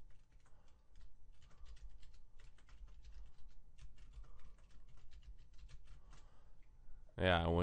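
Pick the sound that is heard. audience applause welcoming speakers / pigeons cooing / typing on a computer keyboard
typing on a computer keyboard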